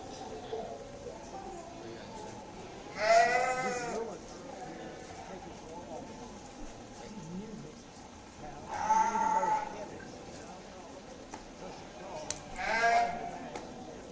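Dorper ewes bleating at a junior livestock show, three distinct wavering bleats spaced several seconds apart over a quiet, murmuring barn background.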